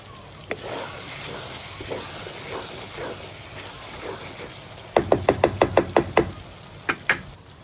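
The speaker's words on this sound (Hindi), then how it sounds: "इधर मैं ना अंडे मिक्स कर लेता हूँ।" Eggs being beaten in a bowl by hand: scattered soft taps, then a quick burst of about eight sharp rhythmic clacks of utensil against the bowl, followed by a few more strikes, close and fairly loud.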